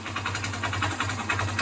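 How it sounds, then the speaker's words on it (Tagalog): A small engine, warmed up using the choke, idles steadily with an even, fast pulsing hum that holds constant and close for the whole moment. "Stable na yung makina."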